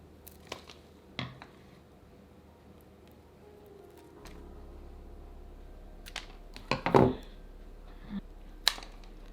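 Scissors or pruners snip through the stems of trailing houseplants to take cuttings, with a few sharp, separate clicks and crunches spread across a quiet room, one snip louder and closer than the rest.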